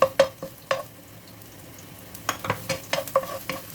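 Onion and garlic sautéing in a hot pan, with a steady soft sizzle broken by several sharp clinks and scrapes of a utensil stirring against the pan.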